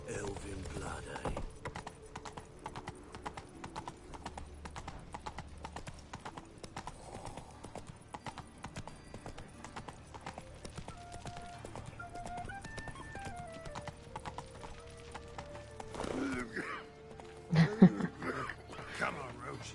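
Geralt's horse Roach trots and gallops in The Witcher 3, a steady rhythmic clip-clop of hooves running throughout under game music, with someone speaking briefly near the end.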